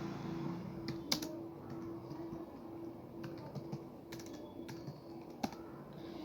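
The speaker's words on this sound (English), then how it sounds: "Here you have to type the file name, which is the encrypted file name" Computer keyboard typing a file name during a Python decryption program run, with scattered faint key clicks and a couple of sharper taps over a low steady room hum, no voices.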